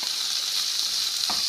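Chopped green chillies hit a hot frying pan during the making of Punjabi kadhi and pakora, a loud continuous sizzle with a bright hiss and a faint clink near the end.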